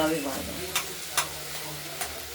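Banana-flower ghonto with lentil bori sizzles softly in a pan while being stirred, with three sharp clicks of the spoon striking the pan's edge.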